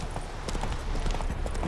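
Horse hooves clip-clop in The Witcher 3: Hearts of Stone, a steady run of hoof strikes at close range under a constant game ambience.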